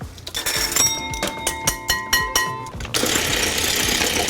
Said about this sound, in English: Using an electric mixer on medium speed, 8 ounces of cream cheese and 1 teaspoon of kosher salt